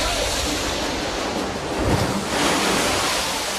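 Large ocean waves surge onto the coast in a steady, loud roar of broadband surf, swelling near the middle and end, with wind buffeting the microphone throughout.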